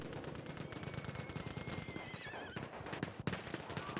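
Horse neighs loudly in a video game battle, its whinny rising and wavering over rapid gunfire and galloping hooves, a busy close mix with no talk.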